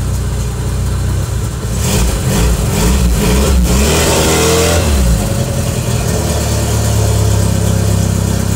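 A car engine drives the vehicle up onto a ramp, running loud and close with a steady idle that rises in short revs, rumbling alone without talk.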